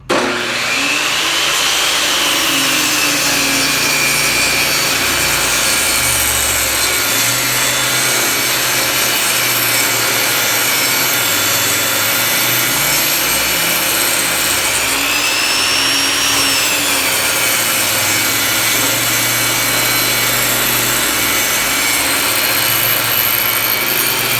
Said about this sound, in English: I set the table saw up just to where I'm going to rip just this outer edge right here off